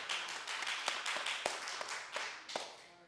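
A few people clap unevenly at a county commissioners meeting, separate hand claps and taps sounding close and irregular before fading out.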